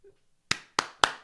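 Three sharp hand claps in a steady, quick rhythm, close and clear, following a brief faint tone.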